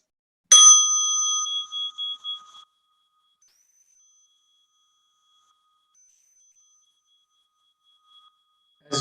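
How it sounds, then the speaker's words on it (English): Mindfulness bell struck once to open a meditation, a bright clear ding with a ringing tone that fades over about two seconds into silence, alone and close. "As you listen to the bell,"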